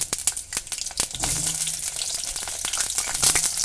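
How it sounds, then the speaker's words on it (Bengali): Potato pieces fry in hot mustard oil, giving a close, crackling sizzle dotted with sharp pops and spatters throughout. "আলুগুলো আমি গরম তেলে ছেড়ে দিলাম"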